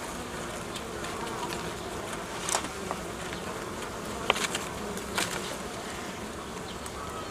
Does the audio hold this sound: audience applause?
no